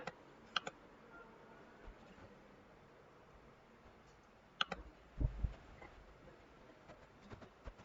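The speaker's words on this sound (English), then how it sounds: "And then you can type commands here." Light, faint clicks of typing on a computer keyboard come in scattered bursts, with a brief cluster of louder taps midway, close and quiet.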